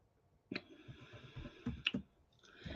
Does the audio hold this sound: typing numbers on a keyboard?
yes